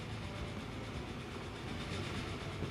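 A train rolls steadily through a Transport Fever 2 game world, a continuous broadband rumble of rail and wagon noise with faint clickety-clack texture, even in level throughout and with no voices.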